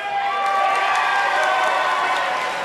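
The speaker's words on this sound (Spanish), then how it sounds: "Mira, el público te aplaudió mucho." A studio audience at a televised talent show claps and cheers for a young dancer, a steady, dense wash of applause and crowd noise filling the whole stretch at even loudness.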